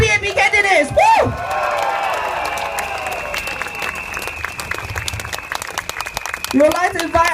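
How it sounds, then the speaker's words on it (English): Rally crowd at a People's Action Party event in Singapore bursts into applause and cheering, with loud whoops and shouting voices at the start and end over sustained clapping, and a faint steady tone running under it. "Big round of applause for our PAP candidates."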